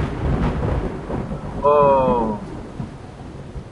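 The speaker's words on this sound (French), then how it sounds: "Et il y a encore l'orage qui tonne." A thunderstorm in a horror video game rolls out low thunder rumbles over a rain-like hiss, and a person lets out a short exclamation partway through.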